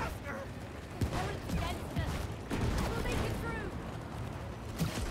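Gunshots in the video game It Takes Two, a scattering of sharp cracks spread through a busy mix of game sounds under steady talking from players.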